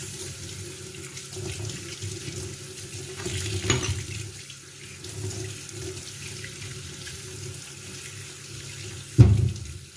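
Irish potatoes being scrubbed under a running tap: a steady rush of water with rubbing and splashing, close by, ending in a sharper clunk, no voices.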